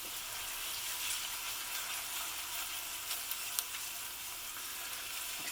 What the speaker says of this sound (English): I'm going to fry this for approximately 2 minutes